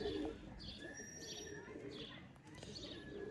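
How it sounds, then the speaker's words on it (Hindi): Sialkoti bloodline pigeons coo softly in repeated low calls, with a few higher chirps over quiet background and a voice speaking faintly. "नायाब और पुराने तरीन दोस्तों सियालकोटी ब्लड लाइन के बटेरे कबूतर"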